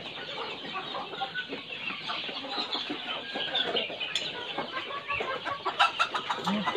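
Reasey breed chickens on a farm cluck steadily at moderate distance, several birds overlapping with short clucks and occasional sharper calls over a soft background hum.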